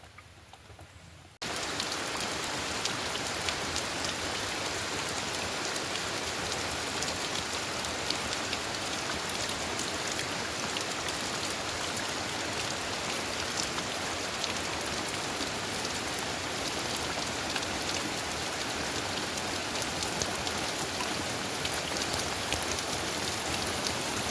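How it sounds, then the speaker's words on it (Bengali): Steady, dense rain pours down in a Sundarban village after a brief quiet start, a continuous hiss of drops drumming on surfaces, close and even throughout. "বৃষ্টি শুরু হয়ে গেছে"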